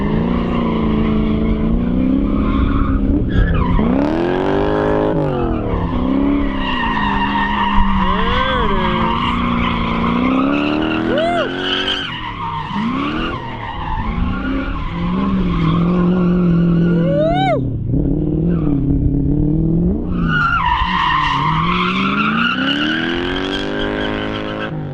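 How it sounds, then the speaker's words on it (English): A V8 drift truck screeches its tires in long, loud squeals that rise and fall in pitch, with an engine roar underneath that swells and drops, continuous and close. "One wheel peeling."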